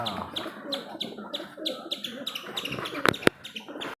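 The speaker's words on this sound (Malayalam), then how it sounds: "നമ്മളെ മൈന എന്ന് പറയുന്ന അറിയപ്പെടുന്ന ആളാണിത്" A myna bird chirps in a quick series of short, bright calls near a home pigeon loft. The chirps are fairly faint and fall in a loose rhythm, ending with a couple of sharper notes.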